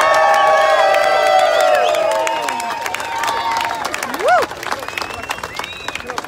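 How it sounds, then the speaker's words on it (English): A crowd at an outdoor protest rally in Ottawa claps and cheers loudly, the applause gradually thinning out, with a few whoops and scattered voices near the end. "Let's give them a round of applause as well."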